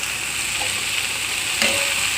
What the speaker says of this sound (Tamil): இப்போ நல்லா வதக்கணும்.